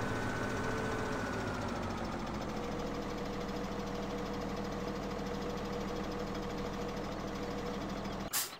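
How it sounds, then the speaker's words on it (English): A tractor engine idles steadily in Farming Simulator 2017, a dense, continuous low rumble with a faint knocking texture that holds throughout, then cuts off abruptly at the end. "We're just going to put the tractor in beside it just now"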